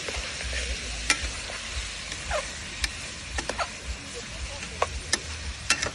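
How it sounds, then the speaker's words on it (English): Spoon stirring ginger, garlic, fried onions and biryani spice mix in a pot, with a steady soft sizzle and scattered sharp scrapes and clicks spread across the stretch, no talking. "I'm going to now stir it up with all my fried ingredients, my onions, my biryani mix,"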